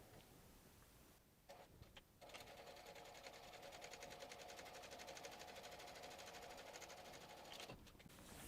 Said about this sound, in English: now we're going to top stitch on the lower lining at about 1/8 inch using a top stitching length.